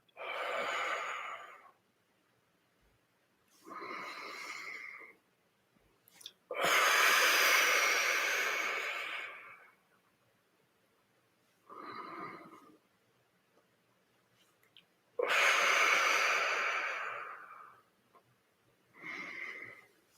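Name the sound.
breathing in and out during stretching exercise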